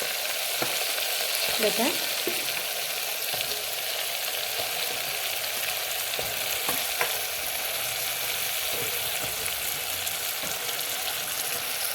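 Stuffed brinjals (bharva baingan) dropped into a pan of hot oil and masala sizzle and fry steadily, with brief scrapes and clinks of stirring near the start. The sizzle is close, continuous and alone.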